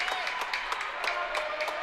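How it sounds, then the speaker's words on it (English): Home crowd at a high school volleyball match between the Hidden Valley Mustangs and North Valley Knights in Merlin, cheering and clapping after a Knights point: a steady, fairly distant roar with scattered claps and shouts throughout. "This crowd erupts every time they get a point."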